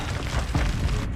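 Incendio fire spell cast in Hogwarts Legacy on Xbox, producing a loud, continuous rumbling burst of flame that roars steadily throughout with a heavy low-end boom.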